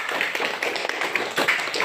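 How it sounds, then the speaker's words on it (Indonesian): Classmates clap for group 2 in a school classroom lesson, a fairly faint, uneven patter of hand claps running steadily through the short stretch. "Mana tepuk tangannya?"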